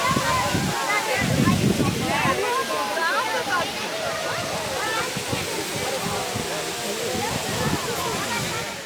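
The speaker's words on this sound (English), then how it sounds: "Made it to the waterfall." Waimea Falls on Oahu, a waterfall about 35 feet tall, pours into the swimming pool below it, making a steady broadband roar and wash of water throughout, with voices faintly mixed in.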